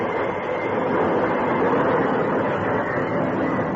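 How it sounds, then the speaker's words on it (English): A train slowing to a halt, its steady broadband rumble and rolling noise loud and continuous throughout, with no distinct squeal standing out. "he applied the brakes and found the train coming to a stop"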